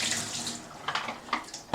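Tap water runs steadily into a sink while developing film is rinsed between water steps, a close, continuous hiss with a few brief splashes and a sharp knock at the end.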